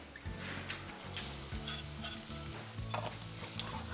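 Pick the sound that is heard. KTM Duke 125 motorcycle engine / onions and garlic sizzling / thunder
onions and garlic sizzling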